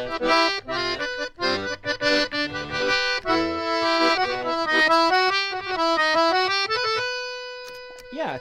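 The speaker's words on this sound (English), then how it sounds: "My accordion has a bandoneon." Accordion played in its bandoneon register, a lower reed voicing with little waver, heard close and alone as a run of short notes gives way to a long held chord.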